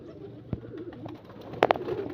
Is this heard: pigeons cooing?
yes